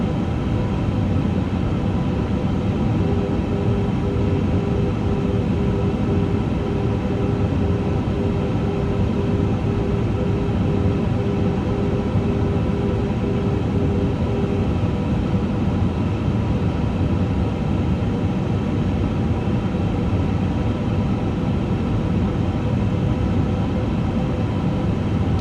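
An Airbus A350 airliner in Microsoft Flight Simulator 2024 drones steadily throughout, a loud continuous engine roar with a faint sustained tone in the first half and no voices.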